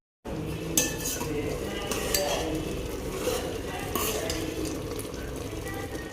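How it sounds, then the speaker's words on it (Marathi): A spoon scrapes and clinks steadily against a pan as chana dal puran filling is heated and stirred, a continuous close rattle with a few sharper knocks. "पुरणाला चटका देऊन घेऊ."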